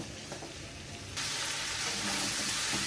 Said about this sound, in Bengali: এবার আমি দিয়ে দিচ্ছি একটা ছোট টমেটো পেস্ট করা দিয়ে আমি ভালোভাবে আবারও তা কষিয়ে নেব